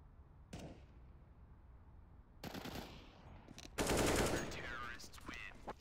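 Pistol shots ring out in Counter-Strike on the Overpass map: a single crack, then two separate rapid bursts of gunfire against quiet gaps.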